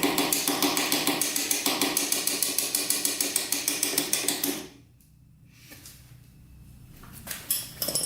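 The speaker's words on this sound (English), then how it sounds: "Tap on that carburetor a little bit." Rapid, regular metallic taps on the carburetor of a Honda TRX450r quad, a dense rhythmic clicking for several seconds that stops abruptly, followed by faint rustling and a few scattered knocks.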